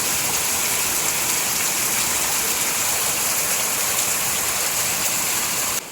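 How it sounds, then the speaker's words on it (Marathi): Heavy monsoon rain pours steadily in Jawhar, Palghar, with the constant dense hiss of downpour and rushing floodwater, loud and unbroken, no voices. "रोज पाणी पडतो आता पहा हो पहा मित्रांनो काय सांगला नाही थोडा पाणी पहा मित्रांनो किती पूर जातोय"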